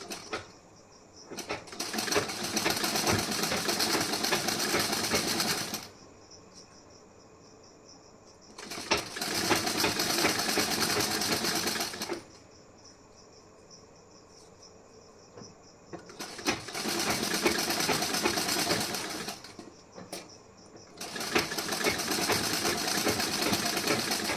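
Sewing machine double-stitching a blouse, running in four steady whirring bursts of a few seconds each separated by quieter pauses, close and continuous while stitching, no voices.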